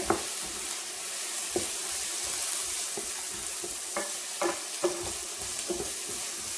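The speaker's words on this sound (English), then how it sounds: "Give this a stir." Bolognese sauce being stirred in a frying pan, with a steady sizzle under scattered scraping clicks of the spoon against the pan, close and moderately loud.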